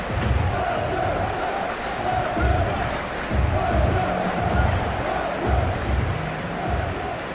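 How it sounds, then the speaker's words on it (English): Simulated stadium crowd at a New Zealand versus Belgium World Cup match in Football Life 2, a dense, continuous roar of voices with swelling chant-like surges rising and falling in a steady rhythm. "We have a hugely expectant crowd here."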